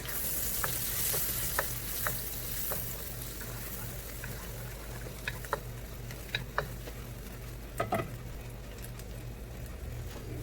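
Scrambled eggs and other ingredients sizzle in a hot pan for a keto meal, a dense, close, continuous hiss with scattered clicks and light ticks of stirring.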